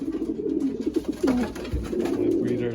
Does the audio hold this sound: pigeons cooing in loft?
yes